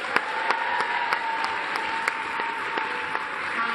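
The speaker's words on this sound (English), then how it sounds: "Give her a cheer as you leave." An audience at a children's Christmas lecture on a Norwich 1578 pageant applauds and cheers. Close, continuous clapping fills the hall, with faint calls and a few sharper claps punctuating it.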